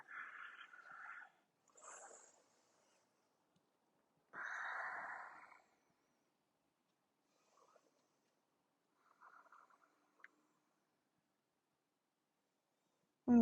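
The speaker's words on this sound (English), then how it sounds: "And breathe." Deep breathing during yoga practice comes as several separate breaths, soft inhales and exhales with long quiet gaps between them, close and faint, with a brief louder noise at the very end.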